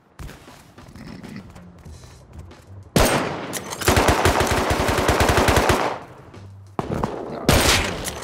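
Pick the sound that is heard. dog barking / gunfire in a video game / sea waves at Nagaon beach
gunfire in a video game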